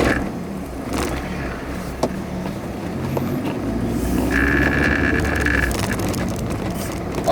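A manual Hyundai Atoz small car pulls away and drives on, its engine and road noise a steady low rumble from inside the cabin, growing slightly louder as it gets moving, with no talking.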